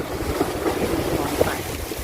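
Surf washing onto the beach at Bang Saray, Chonburi, under a steady breeze, a continuous broad wash with a brief stronger surge midway, close and moderately loud with wind buffeting the microphone.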